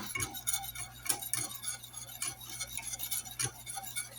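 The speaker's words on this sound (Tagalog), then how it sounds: "Put now the caramel mix. And stir." A spoon stirs caramel mix in a pot on the stove, with a steady run of light metallic clinks and scrapes against the pot over a low hum.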